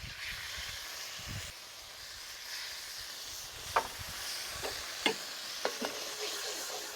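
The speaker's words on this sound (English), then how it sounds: "Gonna drop in 2 eggs." Two eggs dropped into hot oil with garlic and chilies, for a Thai street-food chicken curry, give a steady close sizzle with a few sharp crackles and spatters, no talking.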